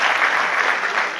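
A stand-up comedy audience gives a short burst of dense, even applause, loud and close, with no talking over it.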